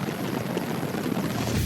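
Helicopter in flight over flat plains, heard from on board with steady, loud rotor and engine noise filling the whole stretch without pause.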